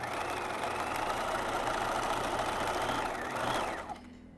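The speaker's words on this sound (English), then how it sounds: "So I'm going to start stitching 5/8 of an inch, usual seam allowance, and usual stitch length." Sewing machine running steadily, stitching a bodice seam with the usual 5/8-inch seam allowance and stitch length; a continuous close whirring hum that stops near the end.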